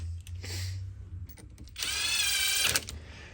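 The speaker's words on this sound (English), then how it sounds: "But let us now bolt everything back on." A power driver bolts parts back onto an RC crawler, its whirring bursts rising after a quieter stretch of handling noise and finishing with a sharp close-range clack.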